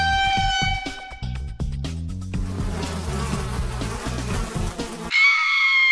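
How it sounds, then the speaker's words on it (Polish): Buzzing bees from the Incredibox Sprunki video game, a dense droning buzz over a rhythmic musical beat and tones, ending with a brief bright synthetic chord, with no voices. "Czas na trollowanie. Pszczoły."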